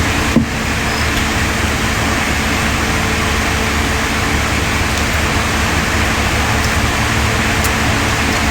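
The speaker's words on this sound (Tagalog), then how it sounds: "lakas kasi ng ulan eh" Heavy rain comes down as a loud, dense, unbroken roar of broadband hiss, with faint low rumble beneath and a brief knock near the start, and no one speaking.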